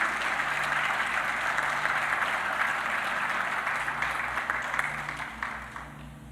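A church congregation applauds steadily as a dense, continuous wash of many hands clapping together, holding at an even level for several seconds and easing off slightly toward the end.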